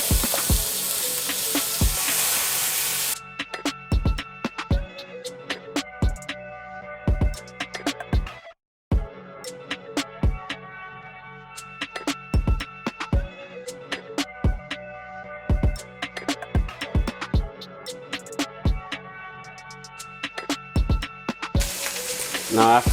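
Beef ribs searing face down in two pots: a loud, steady sizzle and crackle of frying, broken by sharp pops and clanks, with a brief silent gap partway through.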